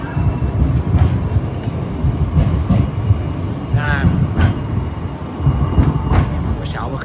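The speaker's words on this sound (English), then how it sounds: "I love the trams here." A tram rolls along a street in Bratislava with a steady rumbling roar, rail clatter and brief metallic squeals from the wheels, close and loud throughout.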